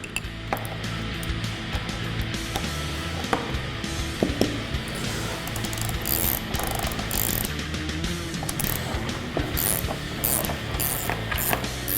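A hand ratchet works loose the sway bar end links on a 2015–2020 Mustang, making steady, close mechanical clicking. Metallic clinks stand out over a constant workshop background noise.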